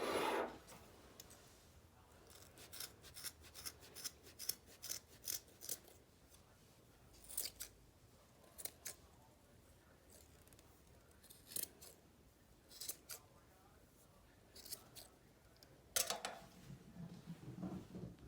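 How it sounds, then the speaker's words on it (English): Scissors snip repeatedly through garland strings, trimming them to matching lengths for a Galentine's Day garland; crisp, close, irregular cuts come in short bursts with pauses, and no voices are heard. "The last thing you're going to do is trim down all of the strings so they're the same length."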